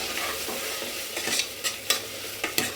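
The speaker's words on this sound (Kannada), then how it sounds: "ಅಕ್ಕಿ ಕಾರದ ಪುಡಿನ್ನ ಎಣ್ಣೆಲ್ಲೇ ಸ್ವಲ್ಪ ಫ್ರೈ ಮಾಡ್ಬಿಡ್ರೆ ಚನ್ನಾಗಿ ಟೇಸ್ಟ್ ಬರುತ್ತೆ." Chili powder frying in hot oil while being stirred for a masala, a soft sizzle under repeated scraping stirs that come in short irregular bursts, close up with no voices.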